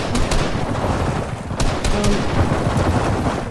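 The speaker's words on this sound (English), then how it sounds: "Wait, will they stop shooting if I hide in here?" Rapid enemy gunfire in Fortnite, a dense, loud barrage of sharp shots crackling continuously through the whole stretch with a few harder cracks standing out, no talking.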